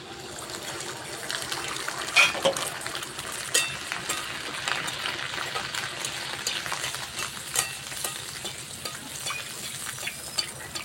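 Jaggery pitha frying in hot oil gives a steady, close bubbling sizzle that continues throughout with occasional louder pops and crackles, and no voices.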